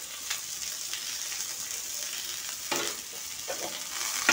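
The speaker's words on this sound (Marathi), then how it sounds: "गाजर पण थोडं फ्राय करून घेते" Carrot, capsicum and peas fry in a pan for a mixed vegetable dish, giving a soft continuous sizzle with a few stirring scrapes, fairly quiet and without talk.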